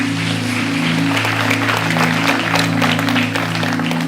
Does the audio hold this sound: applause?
yes